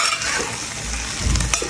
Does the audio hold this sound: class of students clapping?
no